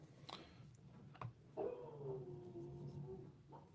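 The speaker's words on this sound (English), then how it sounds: "The dogs are going absolutely apeshit." Dogs outdoors whine and howl, with a drawn-out howl sliding downward through the middle of the clip after a few short yips, moderately loud over a steady background hum.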